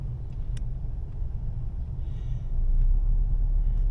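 Continuous low engine rumble near a lake in Ica, likely a dune buggy idling and revving, swelling louder toward the end with a few faint clicks and no talk.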